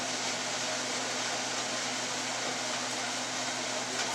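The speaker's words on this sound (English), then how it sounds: "I'm sorry for the noise, I've got my hood vent on." Kitchen range hood vent fan running steadily during home canning of fall corn, a constant broadband whoosh with a low hum, fairly loud and unchanging throughout, no talking.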